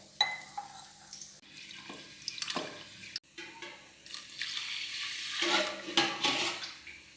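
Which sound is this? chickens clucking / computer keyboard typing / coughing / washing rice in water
washing rice in water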